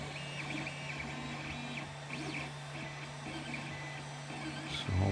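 Faint stepper-motor whine and chirping moves of a 3D printer laying down spliced green PLA filament, under a steady low hum, with no talk.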